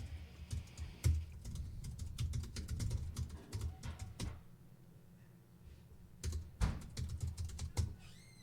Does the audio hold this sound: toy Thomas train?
no